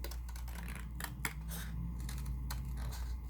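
Cardboard being cut into a circle for homemade Halloween decor, giving a run of close, dry snipping and crunching sounds with a few sharper clicks over a steady low hum, and no talk.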